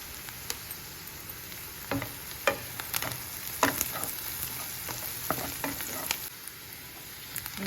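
A pan of oil with turmeric fries steadily before capsicum goes in, with a constant sizzle and scattered spoon scrapes and taps throughout.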